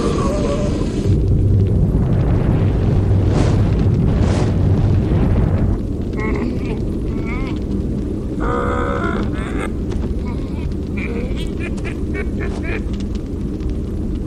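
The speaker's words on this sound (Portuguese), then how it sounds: "A explosão agora está com força total." A loud, sustained roaring rumble fills the scene like a massive eruption or blast, with harsher crackling bursts later and a voice speaking over it.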